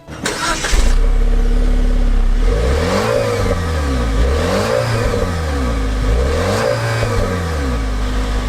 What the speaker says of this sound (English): you gotta listen to this engine